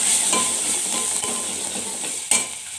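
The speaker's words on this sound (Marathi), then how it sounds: "मी सांबार ॲड केला तेलामध्ये, म्हणजे तो तळून घ्यायचा व्यवस्थित" Sambar masala fries in hot oil for idli sambar, a steady close sizzling hiss with a few faint utensil taps and one sharper knock near the end, no talking.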